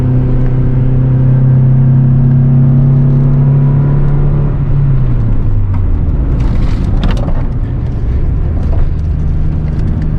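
A budget Acura Integra's engine drones loudly as the car climbs a twisty road, the pitch holding steady then dropping as the revs fall and the drive rumbles on continuously.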